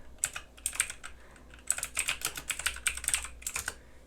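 Quick bursts of key presses on a computer keyboard as commands are entered into an Anaconda console, close and crisp, in uneven clusters with short pauses and no voices.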